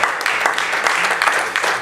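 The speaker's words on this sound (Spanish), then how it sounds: "denle una ofrenda de palmas al Rey de Reyes, al Príncipe de Paz, al Dios poderoso" A church congregation applauds, giving a brief, steady burst of dense clapping with a few sharper accents, fairly loud and continuous.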